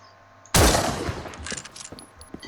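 A single loud, close shot from the JAE 700 sniper rifle in No More Room in Hell, a sudden sharp crack after a quiet start, followed by a decaying echo and faint mechanical clicks.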